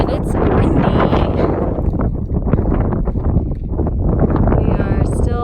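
Strong wind on a Continental Divide Trail hike buffets the microphone, a loud, continuous rumbling roar with gusty fluctuations that lasts throughout.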